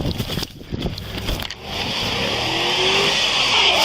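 A car engine revs hard as the vehicle shoves against a deputy's police squad car, starting with clattering impacts and then rising into a sustained, loud roar of acceleration.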